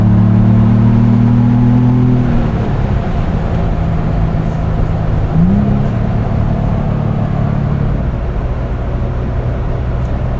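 A 2025 Ford Bronco Big Bend Sasquatch with a 7-speed manual gearbox drones with a loud, steady engine note close by, its pitch dropping once and then rising again as the revs shift, with no voices.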